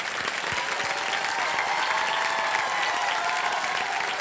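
Steady, dense audience applause fills the studio of a KBC television quiz show, loud and continuous throughout with no pauses.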